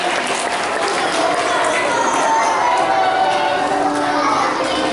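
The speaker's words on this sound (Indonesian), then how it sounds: "Tepuk tangan dong buat kalian." A group of children at a Ramadan Islamic school program in a mosque clap together in a dense, continuous burst of applause, mixed with excited voices and cheering from the crowd.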